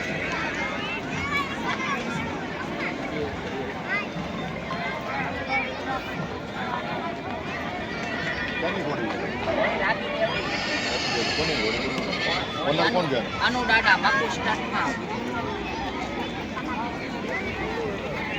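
A Marwari mare of the Dev Darbar line at a horse show in Vankaner, with whinnying and hooves heard under steady crowd babble and someone talking over a loudspeaker.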